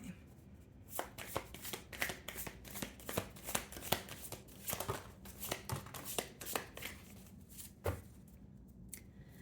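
Tarot and oracle cards being shuffled by hand, a steady run of crisp riffling flicks and soft slaps close up, with no talking.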